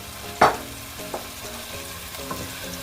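Onions with pinches of salt are stirred in a pot for lentil soup: a steady sizzle of frying runs throughout, broken by a sharp scrape of the spoon and a few softer stirring knocks.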